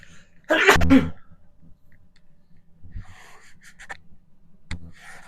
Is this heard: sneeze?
yes